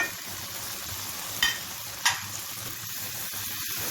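Chopped green chillies and curry leaves sizzle and fry steadily in hot oil in a pan, with a couple of sharp spattering crackles partway through and no voices.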